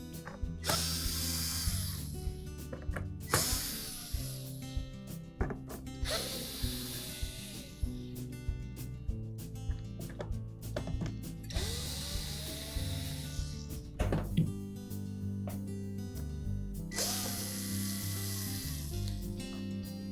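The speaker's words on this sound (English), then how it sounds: "we'll just remove these retaining screws that secure the inner panel to the outer panel" A screwdriver repeatedly ratcheting and grinding as retaining screws come out of an LG dryer door's inner panel, close and steady, with several bursts of turning separated by short pauses.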